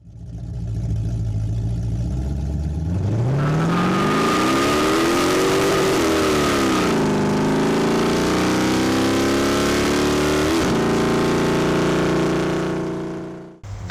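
A car engine fitted with Aces EFI Wildcard 2 fuel injection cruises through the Black Hills of South Dakota, its hum rising in pitch as it accelerates, then settling into a steady drone before cutting off abruptly at the end.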